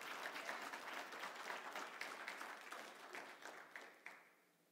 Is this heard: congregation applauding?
yes